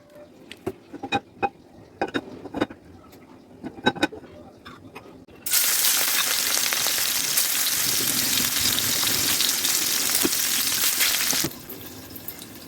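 Small jatka hilsa fish drop into hot oil in a wok and burst into a loud, steady sizzle lasting several seconds, after a series of light clicks and taps, then the hiss cuts off abruptly.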